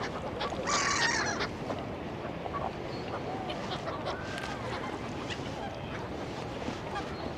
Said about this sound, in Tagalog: Ayun na, may dalawang swan.